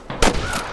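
Gunshots in the Red Dead Redemption video game, a sharp close burst followed by a rapid rattling volley of gunfire that fades out within a second.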